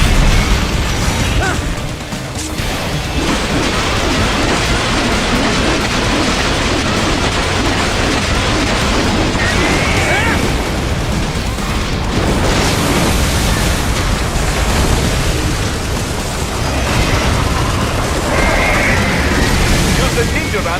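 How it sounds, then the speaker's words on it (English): Plasma cannon fire in the Metal Gear Rising video game, with repeated booming blasts and crashing noise layered over a dense, continuous roar of battle, loud and sustained throughout. "They swapped out the hydraulic cutter for a plasma cannon."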